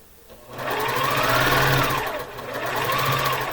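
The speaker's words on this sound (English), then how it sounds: "We're going to sew that together. Couple of stitches" A sewing machine stitches quilt pieces together. It starts after a short pause and runs as a loud, steady mechanical whir with rapid needle chatter, easing slightly in the middle.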